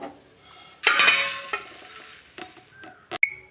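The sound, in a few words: roasting flattened rice (aval) and coconut in a pan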